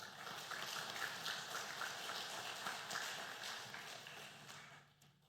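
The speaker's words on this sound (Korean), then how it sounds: "우리 할렐루야 찬양대 주일 경배 찬양팀 축복하고 격려하는 박수 한 번 더 하겠습니다." A church congregation gives a round of applause for the choir and worship team at a Sunday service, steady dense clapping throughout that fades out at the end.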